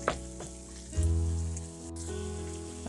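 Onions and capsicum tossed in a hot pan for capsicum rice, a close crackling sizzle with a few sharp pan clatters and a low hum underneath.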